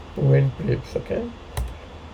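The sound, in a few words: typing on computer keyboard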